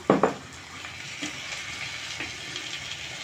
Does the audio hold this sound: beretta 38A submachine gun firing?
no